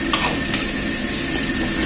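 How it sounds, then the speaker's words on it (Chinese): Potato strips stir-fry in a wok over high heat after scallion, ginger and garlic, a loud continuous close sizzle with stirring scrapes, no voices. "炒香过后下入土豆条，土豆条下锅火可以稍微开大一点"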